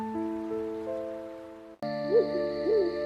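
An owl hoots in an animated children's story, two wavering calls, clear and close, over a soft steady musical background.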